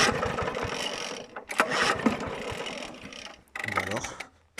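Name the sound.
pulling the recoil starter of a Honda GV150 engine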